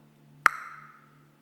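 A mobile phone gives a single short notification ping, a bright bell-like tone that rings out and fades over about a second, clear and close against a faint background hum.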